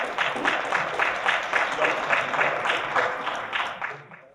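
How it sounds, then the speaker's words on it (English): Audience applause fills a room at an African spirituality conference: steady, dense clapping from many hands, close and fairly loud, running evenly for about four seconds before tapering off at the end. "Let's give them another round of applause."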